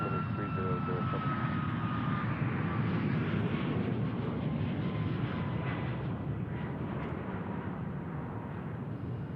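A jet airliner departing Tucson International Airport for Seattle, a steady, loud broadband engine roar that holds throughout with a faint high whine threaded through it.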